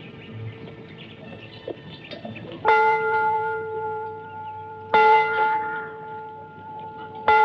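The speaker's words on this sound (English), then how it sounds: "Go ring the bell, young man." A church bell tolls in a Western-era setting, three resonant strikes several seconds apart, each ringing out and decaying slowly over faint background chirps.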